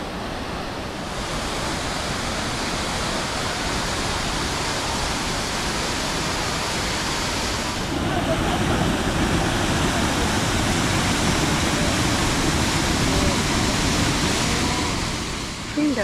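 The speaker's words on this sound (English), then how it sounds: "Triberg is more than just a waterfall." Triberg waterfall in Germany's Black Forest rushes with a continuous broadband roar of falling water that swells louder about halfway through and stays dense and steady.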